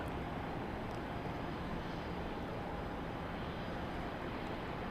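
A NetJets jet takes off at Dallas Love Field, heard as a steady, broad engine roar at moderate distance that holds evenly without a break.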